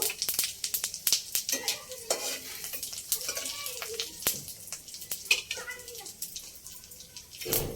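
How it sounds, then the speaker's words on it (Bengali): Whole cumin seeds, dried red chilies and a pinch of asafoetida fry in hot oil, with steady crackling sizzle and the scrape of a stirring spoon against the pan. "ফোড়নের জন্য গোটা জিরে, শুকনো লঙ্কা আর সামান্য একটু হিং দিয়ে ভালো করে লাল করে নেব।"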